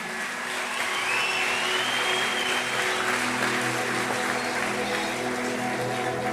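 A church congregation applauds steadily through a New Year's Eve service, a loud, continuous wash of clapping with music sustaining underneath and a crowd murmuring.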